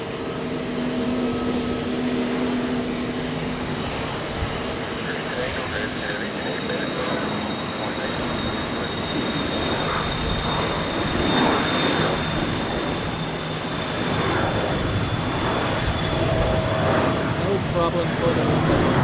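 A jet airliner takes off at Zurich Airport in a crosswind, its engines roaring steadily at a distance, with airport radio talk heard over the sound.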